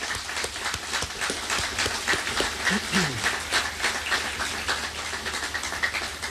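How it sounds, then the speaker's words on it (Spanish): Audience at a memorial ceremony for the AMIA bombing anniversary applauding steadily, a continuous wash of many hands clapping at even loudness throughout, with a faint voice briefly audible underneath. "creo que corresponde aplaudir"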